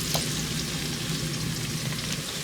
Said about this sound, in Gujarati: મીડિયમ ગેસ ઉપર આપણે એને થોડી શેકી લઈએ। ઓનિયન સરસ સોફ્ટ થવા આવી છે